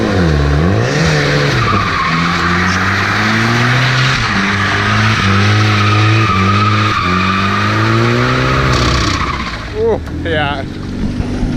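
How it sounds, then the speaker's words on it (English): A car suffering wheel hop while accelerating hard, thought to be caused by a worn strut rod bushing: loud, close tire squeal and skidding over a revving engine, with juddering pulses, people's voices briefly heard near the end. "getting pretty bad wheel hop there"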